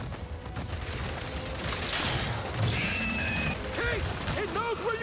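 Rapid gunfire in a video game boss fight, rounds fired at ice beneath a ramming boss, crackling bursts over a busy game soundtrack with occasional crashes and chiming tones.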